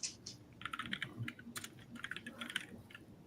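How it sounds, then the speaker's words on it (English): Someone types on a computer keyboard with steady, fast clicking keystrokes, close and fairly soft. "I'll start just typing stuff."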